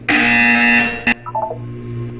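Harsh, loud electronic buzzer in the Portal 2 video game, one sustained blare of about a second, a short second burst, then brief softer beeping tones fading into a low hum.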